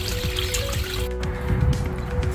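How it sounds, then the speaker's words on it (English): Water runs steadily into a Bestway SaluSpa inflatable hot tub, a continuous close trickling and splashing fill with a low rumble underneath and no talking. "now we're going to fill it up with water."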